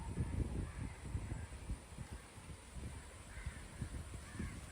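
Crows caw in a loose, overlapping chorus as birds fly off to roost at dusk, the calls moderately distant over a steady low rumble of background noise, with no one speaking.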